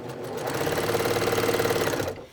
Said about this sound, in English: let's go over to the sewing machine and do that.